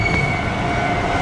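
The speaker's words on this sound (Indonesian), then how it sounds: "Wah, kereta lewat." Loud train passing close by at a station in Japan, a continuous rumbling roar of wheels on rails with a faint metallic whine, no voices.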